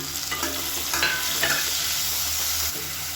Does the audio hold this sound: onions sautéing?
yes